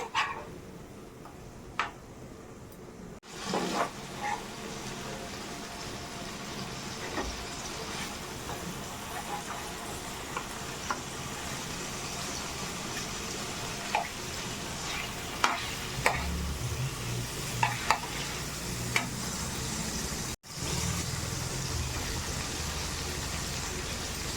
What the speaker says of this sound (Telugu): డీప్ ఫ్రై కాదు జస్ట్ ఫ్రై కొంచెం పసుపు వేసుకోవాలి ఆయిల్లో